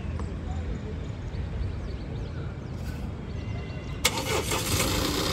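A 2018 Tata Hexa diesel automatic SUV engine cranks and catches, settling into a low, steady rumble; a short burst of sharper noise cuts in near the end.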